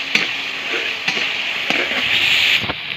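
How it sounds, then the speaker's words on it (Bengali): Dried chapa shutki fish fries in a pan with salt, a steady close sizzle broken by a few periodic scraping stirs of a spatula, no talking. "শুটকিটা দিয়ে ভালো করে নেড়ে চেড়ে"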